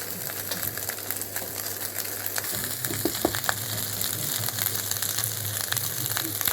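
Leftover lunch and dinner rice stir-fried with mixed vegetables in a pan, a steady close sizzle with scattered scraping and stirring clicks throughout.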